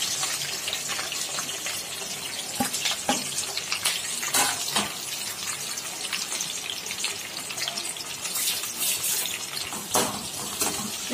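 Onion, green chilli and tomato with fennel and meat masala fry in a pan, a dense, wet hiss broken by bursts of stirring and scraping, close and moderately loud, with no speech.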